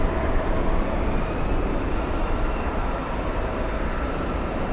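Japanese airliner at LAX airport, a broad continuous jet roar heard fairly loud and steady, with no voices.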